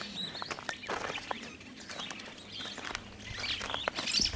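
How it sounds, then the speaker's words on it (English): Birds chirping and tweeting outdoors at a camp in Kenya at moderate distance, several short calls scattered across a quiet background. "You can hear the birds chant."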